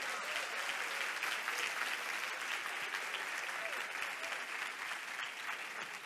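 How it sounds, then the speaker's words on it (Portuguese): A church congregation applauds steadily, a dense, even wash of many hands clapping that fills the room at moderate distance, with no clear voice over it. "Aplauda o nome do Senhor Jesus."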